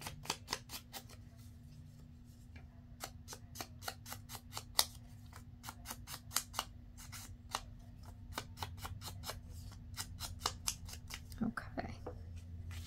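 Scissors snip repeatedly through folded paper corners while a 12x12 three-piece journal set is assembled, crisp close cuts in quick irregular clusters, with a low steady hum underneath.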